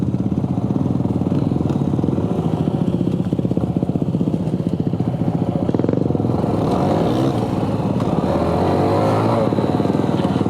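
Honda CT125 motorcycle engine revving steadily while the rider slips the clutch on a wet, leaf-covered muddy trail, a loud continuous buzzing drone close by that rises slightly in pitch partway through.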